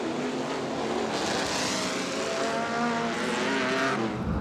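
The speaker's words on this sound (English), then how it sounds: "That is the 1938 Chevy Coupe of Ron Sylvester, being raced by his son here, Grant" 1938 Chevy Coupe race car roaring on a motorsport festival circuit in Waimate, New Zealand: loud, sustained engine drone with rising and falling revs as it passes, no talk.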